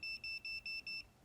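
A quiz game-show answer buzzer sounds in five rapid, evenly spaced electronic beeps, each one bright and steady in pitch, clear and fairly close over a faint background.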